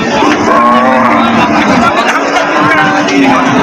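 A young four-toothed heifer lows loudly and close at a busy village cattle market, a drawn-out moo over a constant babble of crowd chatter.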